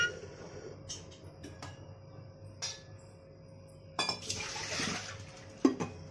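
A pot of water holding eight eggs is set down on a gas stove, making a few metallic clinks and knocks, a brief rushing burst and a final sharp clank in a quiet kitchen.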